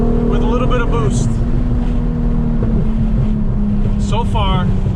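A fully built Audi RS3 with a turbocharged VR6 engine (R30 VR6) drones loudly and continuously from inside or near the car on its first drive, with wind buffeting and a voice talking over it.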